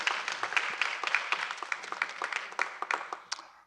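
An audience claps for a panel of judges at a specialty courts forum, a steady patter of applause of moderate size that slowly thins and fades out.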